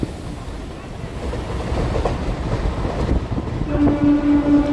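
A MEMU passenger train on the Renigunta–Nellore line rumbles and clatters as it pulls toward platform two near Srikalahasti, the rolling noise swelling louder before a sustained horn blast sounds near the end.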